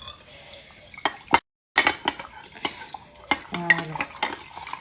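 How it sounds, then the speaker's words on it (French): A spoon stirs chia seeds into vanilla plant milk in a bowl, giving close, irregular scrapes and clinks against the dish, with a short pause partway and a brief spoken word. "Et je vais mélanger."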